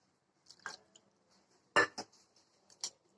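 Semiya dosa batter being stirred with water in a bowl, heard as sparse clinks and scrapes of a spoon against the vessel, a few sharp knocks standing out in an otherwise quiet kitchen without speech.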